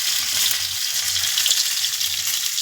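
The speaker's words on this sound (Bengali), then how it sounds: "একটা পার্সে মাছ ভাজা হচ্ছে।" Parshe fish fry in a pan of hot oil with a constant, close, bright sizzle and crackle and a faint low rumble underneath, with no voices.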